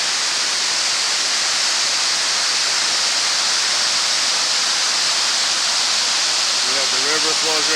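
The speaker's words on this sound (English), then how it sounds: "That's the Palisade Falls at Orient Bay." Up close at Palisade Falls on Orient Bay in Northern Ontario, falling water makes a constant loud hiss and roar; near the end a voice speaks faintly beneath the rushing water.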